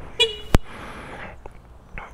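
A Voltz EV1 electric scooter's horn gives a short electronic beep once, followed by a sharp click, with faint mechanical noise around it.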